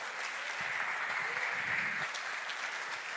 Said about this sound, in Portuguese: Você pode aplaudir o Senhor pela essa renovação